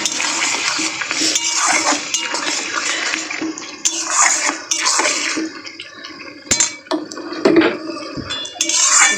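Fish spice paste for a small-fish curry being stirred and fried in a pan, with steady sizzling, spatula scrapes and clinks running close and fairly loud throughout, no talking.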